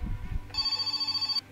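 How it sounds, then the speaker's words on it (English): In the video game My Summer Car, a telephone rings with a bright electronic trilling burst lasting under a second, heard once after some low background noise. "Phone call."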